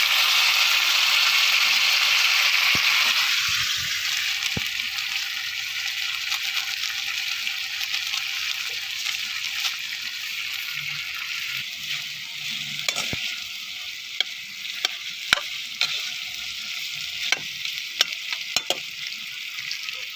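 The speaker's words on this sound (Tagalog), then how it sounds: "Gisahin lang natin." Onion, garlic and chili sauté in a pan for adobo, giving a loud, steady sizzle that settles slightly lower after a few seconds, with occasional sharp clinks and scrapes from stirring.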